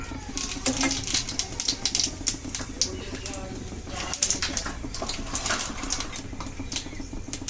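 Dry red chillies, bay leaf and whole cumin hit hot oil, giving a busy run of sharp crackles and spits that keeps going under a speaking voice.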